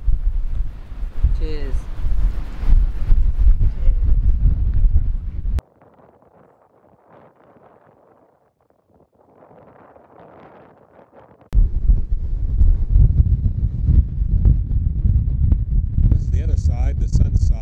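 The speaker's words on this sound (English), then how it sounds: "it is a windy day" Gusty wind buffets the microphone at the Portland Bill lighthouse at the end of the Portland peninsula near Weymouth, loud and rumbling at first, dropping to near quiet midway, then roaring back; faint voices.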